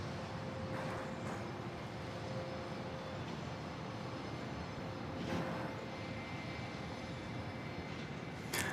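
Southwest airliner landing on runway 31 left at Dallas Love Field, a distant, steady engine roar with a faint whine, continuous and fairly quiet, with no talk.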